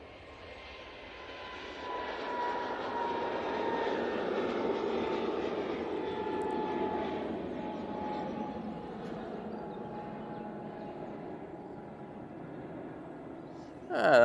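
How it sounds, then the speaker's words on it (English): Airbus A321neo jet on its takeoff roll at Manchester Airport, a steady distant engine roar swelling gradually and holding, heard from afar and fairly faint. "A321neo now on the roll."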